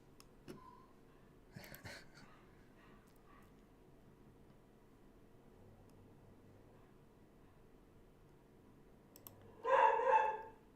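A dog barks a few times indoors, faint and distant at first, then a louder burst near the end over a quiet background.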